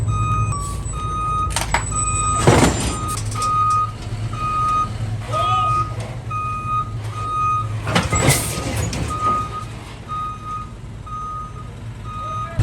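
A truck backing up with its reversing alarm beeping in a steady, evenly spaced series, along with engine rumble and a few loud clunks and hisses nearby, at a tree work site on the San Juan Islands.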